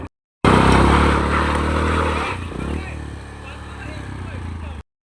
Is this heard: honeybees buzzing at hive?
no